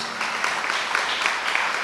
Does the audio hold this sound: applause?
yes